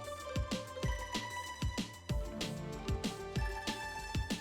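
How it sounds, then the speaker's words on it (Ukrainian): A rapid series of short electronic beep tones from a Casio G-Shock Mudmaster watch's buttons repeats in a steady rhythm, like button presses on a small device. "Далі можемо увімкнути звук кнопок"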